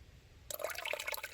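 Water splashes and trickles at a trail water source on the Appalachian Trail in Virginia as water is collected, a close burbling stream of small splashes and drips starting abruptly after a brief quiet moment.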